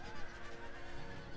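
Horses neigh over a noisy cavalry clash in an Empire: Total War battle, a dense roar of combat with whinnies rising out of the din, loud and continuous with no talking.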